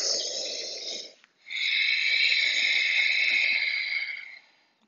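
Deep, steady breaths during a standing balance yoga pose, two long airy breath sounds close to the mic separated by a short pause, with a rough, slightly snore-like texture.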